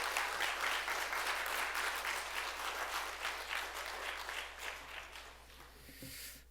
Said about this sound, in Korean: 이농 선교사님 나오실 때 크게 박수로 같이 환영하시겠습니다